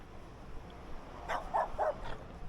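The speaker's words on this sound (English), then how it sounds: "So that dog, I think, got scared of me as I was coming around, which actually scared me as well. Suddenly barked" A startled dog on a quiet street barks suddenly, three or four short, moderately distant yaps in quick succession over low outdoor ambience.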